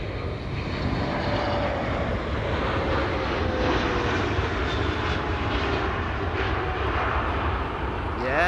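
A new airplane at Amsterdam Schiphol Airport gives a loud, continuous engine roar that holds steady and close across the whole span, broadband and unbroken.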